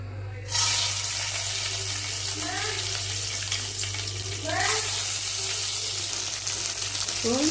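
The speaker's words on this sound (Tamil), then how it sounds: "இதை போட்டு இப்போ நம்ம வதக்கணும்." Curry leaves, tomato, ginger, garlic, shallots and onions for a capsicum gravy hit hot oil with a sudden loud, sustained sizzle that hisses on steadily, with a voice speaking briefly now and then over it.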